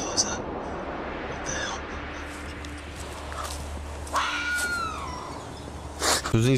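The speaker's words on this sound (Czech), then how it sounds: "To zní spíš jako kočka, upřímně podle mě." A cat meows near a wooded treeline at night, a few drawn-out cries standing out over steady background noise, with a louder burst near the end.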